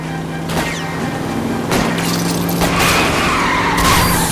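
Car tyres skidding on a wet road as a car is spun out in the video game L.A. Noire, several loud screeching bursts over a steady engine roar, close and harsh, with a voice briefly heard underneath.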